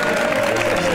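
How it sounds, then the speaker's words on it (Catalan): Audience applause in a studio broadcast, a brief dense burst of clapping mixed with crowd noise and a voice speaking over it. "Aplaudim orelleres"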